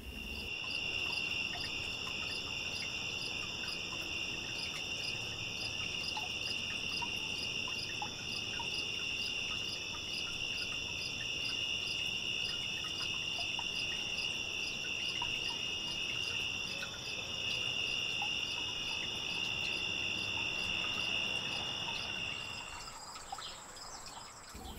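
Tree crickets in a grapevine canopy on a late summer evening, a dense, continuous high-pitched trilling chorus that holds steady and fairly loud for the whole stretch, with no voices.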